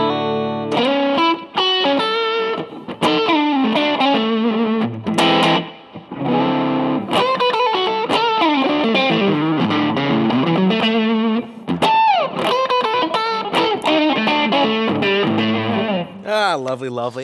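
A Cort G300 PRO electric guitar with both pickups on together in the middle selector position plays a loud, continuous run of strummed chords and sustained notes, with only brief gaps.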